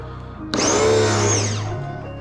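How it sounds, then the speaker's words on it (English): A pressure washer with a foam cannon fitted with a 1.1 mm orifice nozzle starts up abruptly with a loud motor whine and steady spray hiss, its pitch shifting and then settling as it runs. "Let me turn the pressure washer on."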